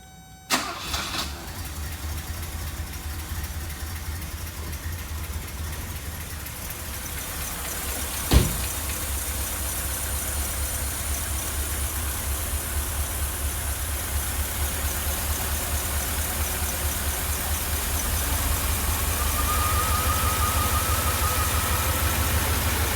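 A 1982 Mercedes 380SL engine cranks and catches early on, then settles into a steady, loud idle that runs for the rest of the clip, with one sharp click partway through.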